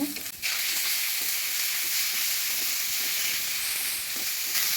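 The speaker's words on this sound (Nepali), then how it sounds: "रातो खोर्सानीको धुलो र यसमा अघि काटेको टमाटरलाई पनि मिसाइएर एकैछिन भुट्छु" Chopped tomatoes and red chili powder fry in a pan for paneer butter masala, giving a loud, steady, close sizzle that starts after a brief clatter and continues unbroken.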